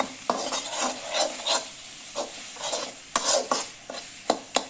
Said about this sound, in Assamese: আকৌ মই এইখিনি ভালদৰে ভাজি ল'ম 2 মিনিটমান।